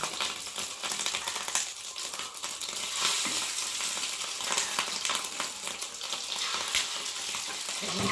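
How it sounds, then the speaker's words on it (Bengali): Fish roe fritters frying in hot cooking oil produce a bright, dense sizzle with constant popping and crackling, steady and fairly close for the whole stretch. "এখন অল্প অল্প করে বড়াগুলোকে ভাজবো"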